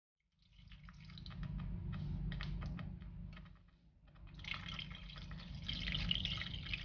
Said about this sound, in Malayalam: ഇനി ഇതിലേക്ക് നമ്മൾ 1 കപ്പ് ചൂടുവെള്ളം തന്നെ ഒഴിക്കണം